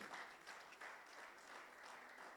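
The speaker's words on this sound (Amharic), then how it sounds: "አጨብጭቡ በደንብ።" A church congregation claps steadily and densely throughout, a continuous wash of applause with no break.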